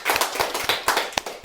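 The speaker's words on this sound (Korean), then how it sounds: "우리 함께 박수로 주님께 영광을 올리겠습니다" Clapping from a church congregation at an Easter Sunday service, with scattered claps merging into a loose burst of applause and a few sharper single claps standing out near the end.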